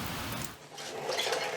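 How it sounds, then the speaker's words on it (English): Rain falls steadily, a broadband hiss that thins briefly near the middle and then swells again, heard alone without voices during a thunderstorm after lawn mowing. "Finally rain."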